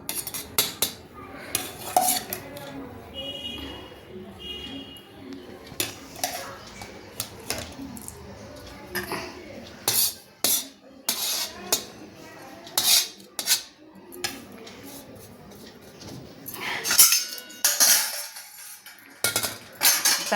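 A spoon scraping and tapping as rice is served onto a plate for a home lunch with fish curry, scattered sharp clinks and scrapes in irregular bursts with quiet gaps between.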